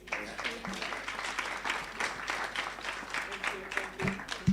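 Audience clapping continues during a gift presentation at a conference on combatting child sexual exploitation: steady, moderate applause with people talking over it throughout.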